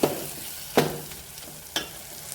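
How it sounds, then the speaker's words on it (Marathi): Ground peanut and garlic paste sautéed in a pan for a spicy matki curry, with a few scraping stirs about a second apart over a low, steady sizzle. "आता हे वाटण टाकल्यानंतर आपण छान परतून घ्यायचं आहे"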